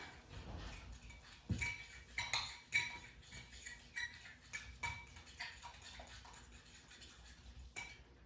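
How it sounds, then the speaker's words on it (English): A spoon mixes breakfast cookie batter with PB2 in a bowl, giving soft quiet clinks and scrapes in an irregular rhythm, close but faint, with no talk. "And then just give that a mix using your spin move."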